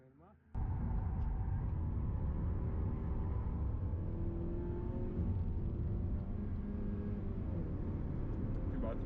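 A race car's engine drones loudly and continuously after a sudden start, a dense rumble that holds steady with no clear pauses, while voices are heard faintly underneath.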